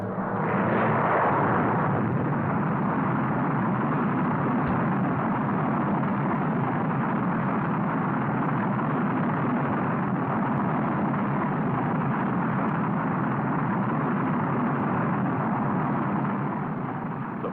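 Saturn V rocket with three stages of chemical, fuel-burning engines firing: a loud, unbroken roar that holds steady for the whole stretch.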